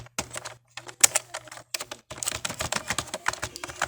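Computer keyboard typing while writing PHP code, a close series of quick, crisp key clicks in uneven bursts with a short pause midway, then a denser run of taps, no talk.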